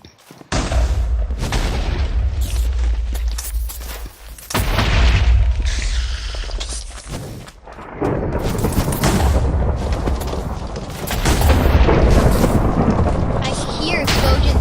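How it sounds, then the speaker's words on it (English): Explosions from the Minecraft minigame Super Smash Mobs go off one after another as deep, loud booms with a few short gaps, and a player's voice talks through the blasts. "I hear explosions everywhere."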